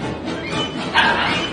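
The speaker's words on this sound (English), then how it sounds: "He just starts barking at them." A dog barks at puppies, short yappy barks and whimpers over a noisy background, one louder bark just before the end of the brief clip.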